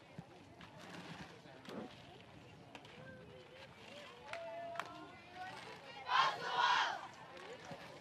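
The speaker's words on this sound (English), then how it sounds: "Didn't hear anything specific except for the cheer at the end." Softball team at a high school playoff game breaking a mid-game huddle with a short burst of group cheering near the end, following faint murmured talk and scattered outdoor noise.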